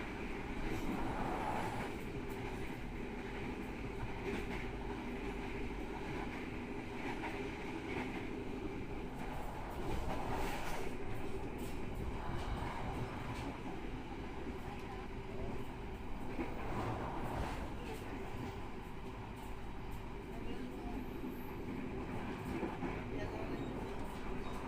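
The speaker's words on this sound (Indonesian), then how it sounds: "KA Blambangan Ekspres melintas langsung Stasiun Lemahabang." Blambangan Ekspres passenger train passing straight through Lemahabang station in Indonesia, a steady loud rumble of wheels on rails that lasts throughout, with some faint voices underneath.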